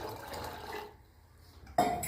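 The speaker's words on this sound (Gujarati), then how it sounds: "વટાણા બટેકા ડૂબે એટલું પાણી મૂકીશું" Water pours into a pressure cooker holding peas and potatoes, a soft liquid splash for under a second, then after a short quiet gap a louder burst of pouring with a faint clink.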